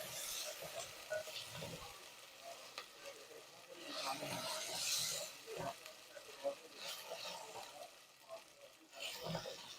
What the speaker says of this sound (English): Now I will add my ginger garlic paste into it. Now I will keep on stirring it occasionally